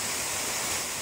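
Steady broadband rush of a waterfall, heard close and continuous for about a second with no voices over it.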